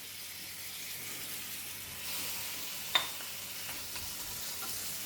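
Jumbo prawns sizzle in hot oil with onions and spices, a steady close fry with a sharp clack near three seconds and light stirring sounds throughout.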